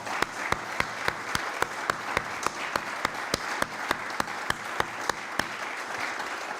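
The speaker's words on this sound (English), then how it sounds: "if you could give them a round of applause" Applause from a small conference audience in Dawson during a gold-mining event, sparse and rhythmic, with claps landing in a steady beat throughout.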